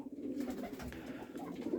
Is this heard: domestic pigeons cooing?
yes